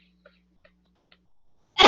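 A single sharp sneeze bursts out loudly at the end, after near silence with a faint hum and a few small clicks.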